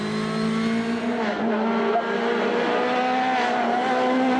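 Rally car with a turbocharged engine, close to a 1.6-litre WRC unit, on a 21 km special stage of the Rally Islas Canarias, a loud, near, sustained engine howl with shifting pitch as it accelerates past.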